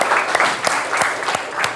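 Applause from a classroom group, a short burst of steady clapping with a few sharper claps standing out, fairly close and loud, with a little speech mixed in.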